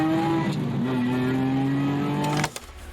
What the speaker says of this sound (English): we've specifically engineered the noise we want for the bespoke exhaust system